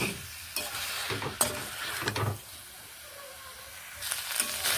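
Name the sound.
stir-frying drumstick and fish curry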